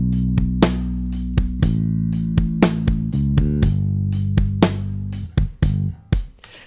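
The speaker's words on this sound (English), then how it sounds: "it's just a bass guitar with some drums, and it sounds like this." Demo loop of a bass guitar playing with a drum kit, the kick and snare hits punching out in a steady groove under the sustained low bass notes, loud and close with no talking.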